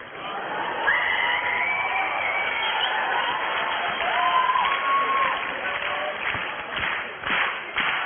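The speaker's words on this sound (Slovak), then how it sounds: "tak by som vás poprosil potleskom, ako jak hudba" Slovak talent show finale audience clapping along in rhythm to a sung cola song, broad continuous crowd clapping with steady pulses and some whoops, a sung melody riding on top throughout.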